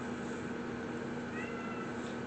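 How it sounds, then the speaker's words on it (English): A pet cat named Alley Cat meows steadily in the background of an indoor room, a faint, continuous vocalizing with no talk over it. "that's Alley Cat meowing in the background"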